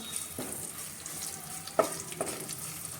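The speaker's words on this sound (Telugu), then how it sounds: "ఆయిల్ వేడెక్కిన తర్వాత పోపు దినుసులు వేసుకుంటున్నానండి కొంచెం ఇంగువ ఇప్పుడు వీటిని వేయించుకుందాం" Whole spices and asafoetida tempering in a spoonful of hot oil for tomato rasam with drumstick, giving a steady low crackle and sizzle with a few sharper pops, fairly faint and close.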